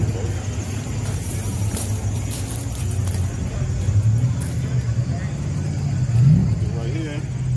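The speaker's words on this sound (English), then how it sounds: "it's a twin turbo Gallardo, fast as hell" A twin turbo Lamborghini Gallardo Performante engine gives a steady, close low rumble with a couple of brief surges, under faint background voices.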